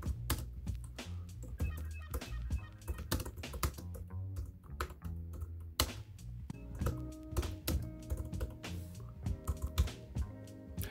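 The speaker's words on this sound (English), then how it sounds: "I'm gonna do all this and do a little bit of typing just to make sure keys are nice and responsive." Rapid, clicky keystrokes on a Jelly Comb keyboard made for the iPad Pro, typed in a steady, busy stream of taps and thunks at close range with no talking.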